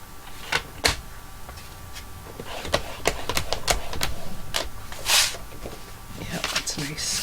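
Scoring a cardstock card panel at the 3.5-inch mark, with sharp clicks and taps of the scoring tool and board scattered through, close and fairly loud beside a voice talking.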